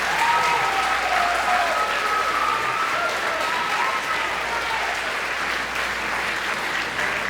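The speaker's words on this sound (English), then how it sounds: "a big round of applause for our amazing band students" An audience in a school theater gives a sustained round of applause for eighth-grade band students at a spring band concert, a dense wash of clapping that stays fairly even and fades slightly toward the end.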